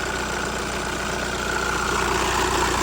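A Volkswagen New Beetle's engine idles while warming up, a steady, fairly loud rumble with a continuous light rattle running through it.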